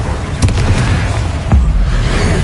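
A Bombarda spell explosion in the Hogwarts Legacy video game, loud heavy booms with sharp bursts, one near the start and another about a second later, over a rumbling battle backdrop.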